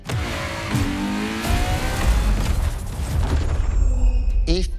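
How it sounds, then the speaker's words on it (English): The hybrid engine of a Ferrari LaFerrari revs in The Crew Motorfest racing game, a loud, close engine roar that climbs and surges, with brief electronic sounds near the end. "LaFerrari is the first Ferrari we have with an hybrid engine."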